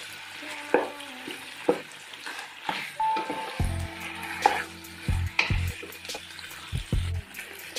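Chicken fries in a pan with a little tomato paste, a soft sizzle broken by scattered taps and scraping stirs, with a few louder clanks of utensil on pan.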